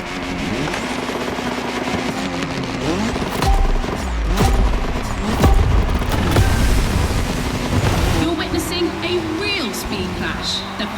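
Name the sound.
Ford Puma engine racing in the video game The Crew Motorfest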